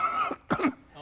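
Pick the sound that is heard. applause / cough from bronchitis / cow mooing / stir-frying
cough from bronchitis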